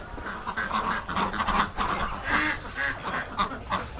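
A busy flock of ducks quacks and honks continuously, several birds calling over one another close by.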